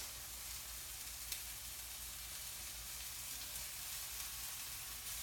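Liver sizzles steadily in a hot frying pan, a continuous crackling hiss with faint pops throughout and no talking.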